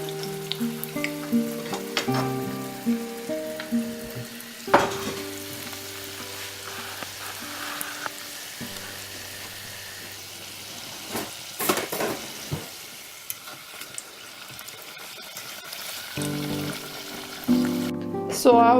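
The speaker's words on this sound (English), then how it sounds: "now we start to fry them in very hot" Pirozhki frying in very hot sunflower oil, a steady sizzle and crackle running through with occasional clinks of utensils and stirring, with some background music.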